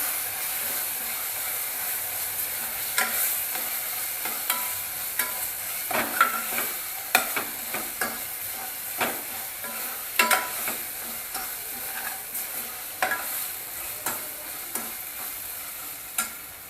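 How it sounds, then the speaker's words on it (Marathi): Ginger garlic paste sautés in hot oil for chana dal pulao, a steady bright sizzle broken by repeated spatula scrapes and stirring knocks in an uneven rhythm, close and clear with no speech. "दीड चमचा घातलेली मी आले लसणाची म्हणजे पेस्ट ती पण परतून घेऊया"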